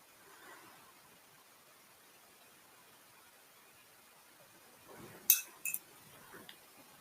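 A paintbrush rinsed in a glass water jar during watercolour painting gives two or three quick, faint glassy clinks after a near-silent stretch.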